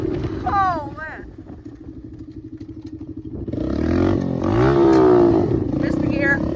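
Dirt bike engine idling unevenly, then revving up loudly and climbing in pitch after a missed gear shift, with voices shouting over it near the start and end.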